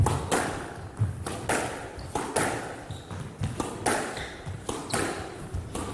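Squash balls crack off racquets and walls in a rally at the Karachi Open semi-final, a string of sharp, irregular thuds and taps echoing in a court with a murmuring crowd.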